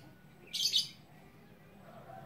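Sooty-headed bulbuls (trucok) in a captive breeding colony give one short, bright burst of chirping calls, fairly close, then quiet again.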